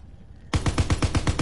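A light machine gun firing in Call of Duty, a sudden loud burst of rapid, evenly spaced shots, about eight rounds in just under a second, close and with no talking over it.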